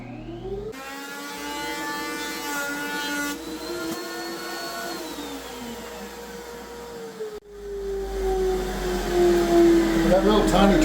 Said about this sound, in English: This is a Home Depot rigid 13-inch, I think it's a 1711 model.